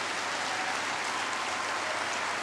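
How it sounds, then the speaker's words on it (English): Audience at a youth leaders' assembly giving the MC a round of applause, a dense, continuous wash of many hands clapping at moderate volume. "So one more time, if you believe I've been doing a good job, can you please give me a round of applause?"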